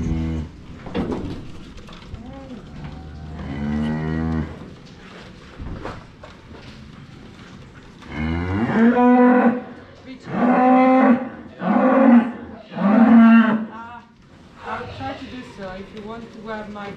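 Hereford cows on a farm moo in a series of loud, drawn-out calls, clustered close together in the second half, with quieter lowing and some people talking earlier, during pregnancy testing of the herd.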